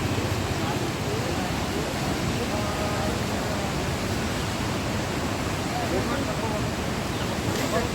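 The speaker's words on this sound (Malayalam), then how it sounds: "നമ്മുടെ അട്ടമല മുണ്ടക്കൈ ഭാഗത്തെ പുഴയാണ് ഇതൊരു ഭംഗിയാന്ന് നോക്കി പതഞ്ഞൊഴുകുന്ന" A river in the Mundakkai and Attamala area of Kerala rushes and froths nearby during heavy rain, a loud, continuous roar of churning water that holds steady throughout.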